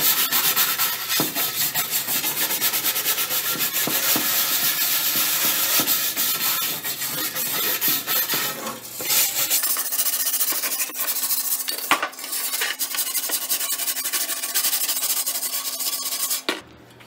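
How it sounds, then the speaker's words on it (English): An old grill wire brush scrubs rust and old undercoating on a 1953 Chevrolet, a steady close, loud rasping scrape that runs almost continuously, with a brief pause near the end and no talking. "But that's what we're going to do, is just start brushing."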